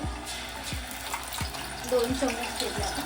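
Green masala paste frying in hot oil for a Maharashtrian catfish curry, a steady sizzle with clinks of a stirring spoon against the pan at regular intervals.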